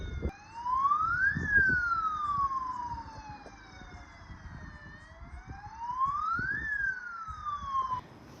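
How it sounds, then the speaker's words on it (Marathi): A security alert siren wails across a village settlement, rising and falling in slow sweeping cycles, steady and somewhat distant, with no one speaking. "आता हे सायरन थोडा वेळ चालूच राहणार आहे"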